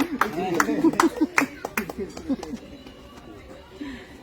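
Audience applause at a community alms-collection event, heard as a run of rhythmic hand claps mixed with voices and crowd chatter.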